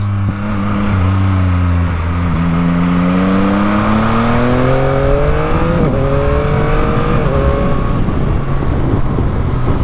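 Loud, close engine of a 2021 Yamaha MT-09 motorcycle on a first ride, pitch rising steadily through gears with brief shift dips over ten seconds, wind noise underneath, no talking.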